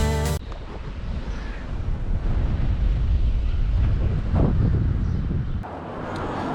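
Gusty wind batters the microphone in a constant rumbling roar on the coast at St Bees, easing slightly near the end, with no voices.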